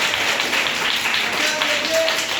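Children in a classroom clap loudly and steadily, a dense, continuous patter of many small hands that fills the whole moment without a break, with a faint voice underneath.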